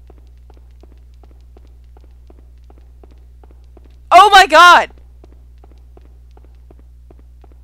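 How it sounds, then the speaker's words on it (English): Riccardo's footsteps echo in Haunting Ground, a faint, even stream of steps that keeps going at a steady pace throughout, broken once by a loud, brief shouted exclamation. "Did I just hear Riccardo's footsteps?"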